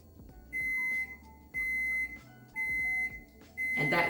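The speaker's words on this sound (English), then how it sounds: "that's the oven, you guys, that has preheated to 400 degrees for the baked tomatoes" An oven that has finished preheating to 400 degrees beeps four times in an even rhythm, each long tone loud and close, with a clatter at the end.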